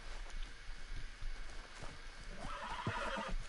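A horse whinnies and snorts in the video game Red Dead Redemption 2, with hoof clip-clop and outdoor ambience, moderately close but fairly quiet.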